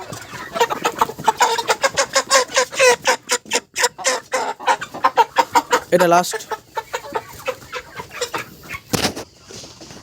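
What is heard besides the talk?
rooster clucking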